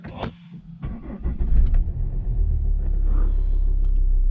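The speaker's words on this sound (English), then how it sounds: "So now we're going to hold brake and start." A Volvo V60 D5 diesel engine starting: a brief starter crank followed by the engine catching and settling into a steady low idle rumble, close by.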